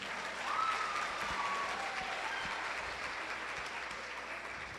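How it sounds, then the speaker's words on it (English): Steady applause from a crowd of young women at a Newark Public Schools empowerment event, a dense, continuous wash of clapping heard from a distance at moderate level throughout. "a round of applause"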